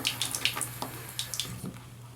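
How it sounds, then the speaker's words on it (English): A bathroom tap runs steadily at the sink during a wet shave with Mitchell's Wool Fat shaving soap, a faint continuous hiss broken by light splashy clicks and drips. "God forbid I should leave the water running"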